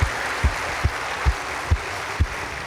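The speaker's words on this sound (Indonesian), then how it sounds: "kita berikan aplaus untuk seremonial ini" An audience at a campus event claps steadily in a continuous wash of applause for a donation ceremony, with a few louder claps standing out at a regular pace.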